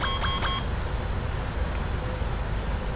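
Boeing 777 cockpit alarm after the primary flight computers are disconnected: a few quick electronic beeps at the start over steady cockpit hum, then continuous background noise.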